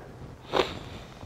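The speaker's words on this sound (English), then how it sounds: "Sorry about the sniffing" A single short, close sniff through the nose, breathy and quick, with quiet background otherwise.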